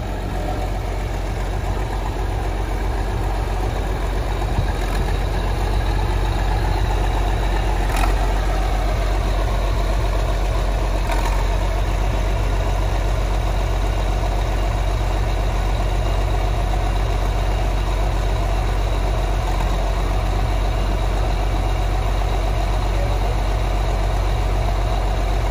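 A Massey Ferguson MF 3090 tractor engine idles loudly and steadily nearby, a continuous deep diesel rumble with a few faint knocks and no talking.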